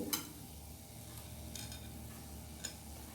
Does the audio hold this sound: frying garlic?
yes